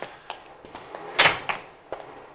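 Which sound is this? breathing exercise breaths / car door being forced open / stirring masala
car door being forced open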